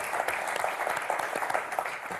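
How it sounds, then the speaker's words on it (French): A TV game show studio audience claps in a steady, lively burst of applause that lasts a couple of seconds. "On vous applaudit très fort."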